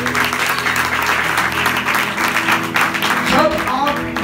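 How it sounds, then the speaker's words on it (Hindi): Church congregation applauding during a Hindi-Urdu sermon: dense, sustained clapping from many hands fills the room steadily throughout, with faint tonal background sound beneath. "आई से उतर तालियां बजाओ।"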